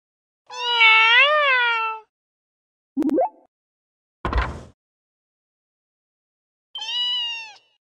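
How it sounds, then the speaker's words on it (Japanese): A cat in the video game Trails in the Sky meows twice, with long, clear, close meows at the start and end separated by a couple of brief thuds and silence. "おいおい、猫かよ。"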